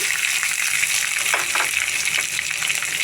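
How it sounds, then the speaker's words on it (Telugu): Dry red chillies frying in oil in a pan with cumin and mustard seeds, a steady close sizzle throughout with brief bursts of louder crackle, no talking. "అలాగే ఎండుమిర్చి కూడా వేసుకోవాలి దోరగా వేగించాలి"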